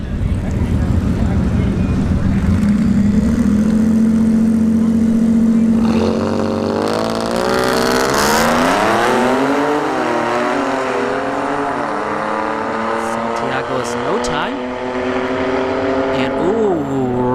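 A Taurus and a twin turbo F-150 drag race at ShowTime Dragstrip, with loud engines droning at a launch and then revving upward through rising gears, heard amid wind noise and crowd-level background.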